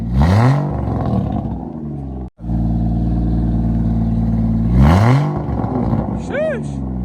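A Lexus IS300 engine with a custom single exhaust and Treadstone manifold revs up sharply twice, each blip falling back to a loud steady idle rumble, recorded close with a brief cutout between the revs.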